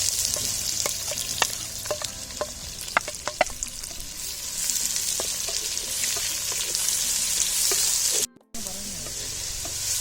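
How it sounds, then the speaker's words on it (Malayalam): Onions fry in hot oil with mustard seeds and curry leaves, giving a continuous close sizzle broken by spatula scrapes and pops, with a brief silent gap near the end and no voices. "സവോള ഇടുന്നുണ്ട്."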